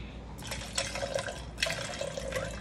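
Liquor, then grenadine, being poured for a sour gummy worm shot, a steady trickling splash that comes in two bursts and stays fairly faint and close, with no talking.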